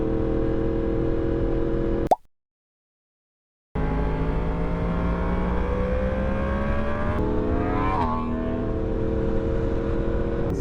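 A motorcycle engine running loud without its muffler on a weekend ride, a steady harsh drone with rising and falling revs, broken by a sudden gap of silence before resuming, close and with no talk.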